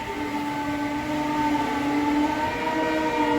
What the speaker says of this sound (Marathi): सध्या स्टेशनवर गाडी येऊन थांबलेली आहे